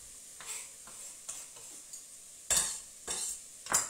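Garlic, carrots and onions sautéing in a pan for a homemade bolognese, with several distinct scraping stir strokes over a soft sizzle, the loudest pushes coming near the end, no talking.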